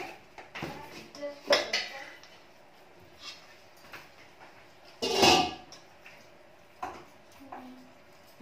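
Spoon clanks and scrapes against a metal pot while two and a half kilos of chicken are mixed with turmeric, with scattered knocks of varying loudness and one louder clatter, and a voice is heard briefly.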